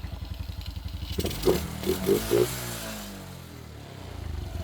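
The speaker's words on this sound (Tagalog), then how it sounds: "tingnan natin kung aandar" A Raider J 110 carbureted motorcycle, unused for three years, is started: a few sputtering engine bursts catch briefly, close and fairly loud, then fade into a quieter mechanical rumble.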